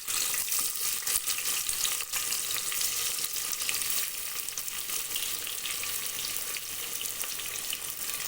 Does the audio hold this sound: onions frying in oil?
yes